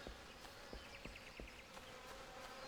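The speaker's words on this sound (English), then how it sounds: "Careful of the bees." Bees in the online role-playing game Final Fantasy XIV buzz in a faint, steady drone, overlaid with soft ticking footsteps and a short run of chirpy game tones, with nobody talking.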